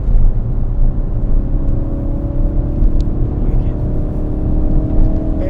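Ford Focus RS circling the Goodwood circuit at speed, its engine a steady loud in-cabin drone with road roar underneath, as someone talks over it throughout.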